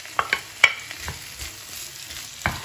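Onions and other vegetables cook gently in a pan with a faint, low hiss, broken by a few soft pops and clicks, close by and without voices.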